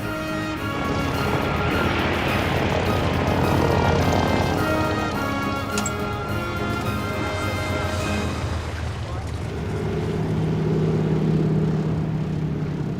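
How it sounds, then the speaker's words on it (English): A seaplane flies over the Australian coast, its propeller engine droning loudly and continuously, the pitch shifting as it passes, with a voice talking over it. "Who needs runways when you've got a seaplane?"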